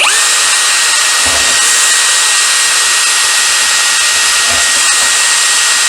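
A loud, continuous high-pitched whine of an Einhell TP-CD 18/120 cordless impact driver driving a screw runs without pause, with a couple of faint low knocks underneath.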